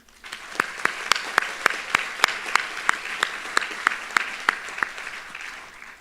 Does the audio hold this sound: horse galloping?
no